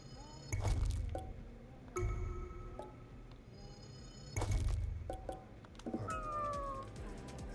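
A cat in the video game Ghostwire: Tokyo meows in two or three short, moderately loud calls, separated by game effects and soft tonal interface chimes.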